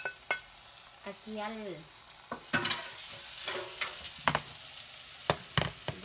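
Browned chicken pieces being stirred in a frying pan, with intermittent scraping stirs and a low sizzle, close and moderately loud while a person talks briefly over it.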